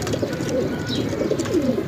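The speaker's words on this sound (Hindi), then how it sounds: "भाई ये जो कबूतर है ना या मादी, ये बहुत अच्छी मुझे बड़ी खुद पसंद है" Pigeons kept as breeding pairs in Jhelum coo softly and continuously at close range, a low rolling murmur repeating without pause and with no voices over it.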